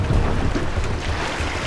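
A racing sailboat pounds through big ocean swells, with a loud roar of rushing water, spray and wind buffeting close to the microphone.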